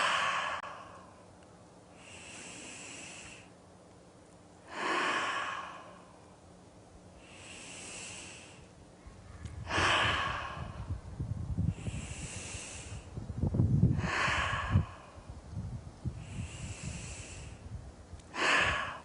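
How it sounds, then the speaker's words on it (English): Slow deep breaths drawn in through the nose and pushed out through the mouth, about six long soft airy cycles with pauses between them, close and unhurried, with some rustling of body movement during the later breaths. "you take very deep breaths in through your nose and out through your mouth about 6 times"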